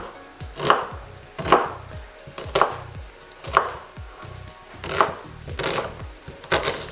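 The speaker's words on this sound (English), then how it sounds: "just slice an onion" A knife slices an onion on a cutting board for a sausage and bacon green bean casserole, with about seven crisp, evenly spaced cuts close by and no talking.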